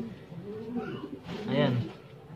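A young off-color pigeon, caught at dusk, gives a short soft coo rising near the end, faint and close, with a person talking over it.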